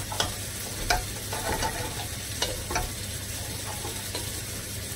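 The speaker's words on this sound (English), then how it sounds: "what we'll do is stir in the coriander" Chicken tikka masala with onions and tomatoes simmers and sizzles in a pan as coriander is stirred in, with a steady hiss punctuated by regular light spoon taps and scrapes up close.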